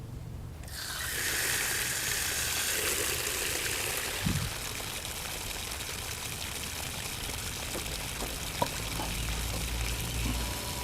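A tap fed by a solar-powered water pump opens into a steady, loud gush of running water that continues without a break, with a few faint knocks and clicks near the end.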